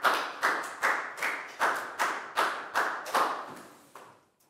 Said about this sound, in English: Big round of applause for Dan, please, guys